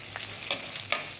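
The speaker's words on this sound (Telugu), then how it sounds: "ఇట్లా ఆయిల్లో డీప్ ఫ్రై చేసుకుంటేనే చాలా బాగుంటుంది రైస్లోన తినడానికి కూడా" Green chillies deep fry in hot oil, a close, steady bubbling sizzle broken by a few short scrapes of a spoon against the pan.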